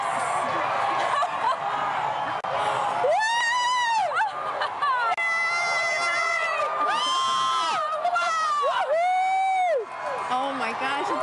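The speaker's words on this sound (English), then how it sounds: "The crowd is counting" A crowd watching a total solar eclipse cheers and whoops with rising excited shouts and laughter, loud and continuous, with voices near and far.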